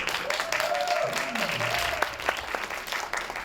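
Audience applause at a Brooklyn literary program event, broad steady clapping with a few whoops and cheers rising over it, continuous and fairly loud throughout.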